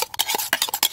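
Fast, scraping clicks of a utensil whisking raw eggs with salt in a bowl, close to the listener and energetic, with no voices.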